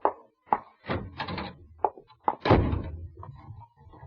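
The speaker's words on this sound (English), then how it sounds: "It's no use locking yourself in there, Paul." A door shut and locked in an old radio suspense drama: a series of close wooden thunks and clicks, several separate knocks followed by a heavier slam and a bolt, with no talking.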